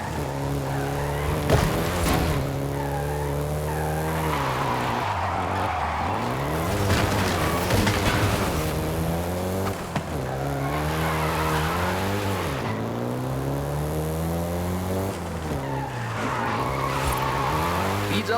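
A Volkswagen Golf GTI in Forza Horizon 5 drives hard with a steady droning engine and long, wailing tire squeals as it skids through turns, loud and continuous throughout.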